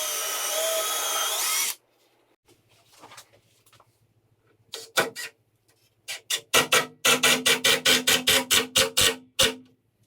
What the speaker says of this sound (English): I'm going to continue to pre-drill the holes all the way into the cross brace itself, just to prevent any splitting